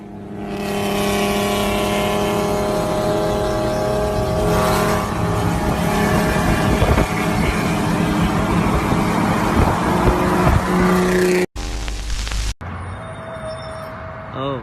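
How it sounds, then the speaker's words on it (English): A Tesla Roadster launches and accelerates, a loud, rising electric whine and road roar building steadily over several seconds, followed by abrupt cuts to other loud noise. "Tesla Roadster launch."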